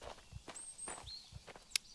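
Quick running footsteps in the horror game Maid of Sker, a steady series of soft, dull thuds close by, with a faint high tone above them and a sharp click near the end.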